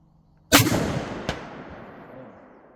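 A single loud rifle shot cracks close by at an outdoor range aimed at small targets, then a faint, sharp impact report follows and a long echo decays.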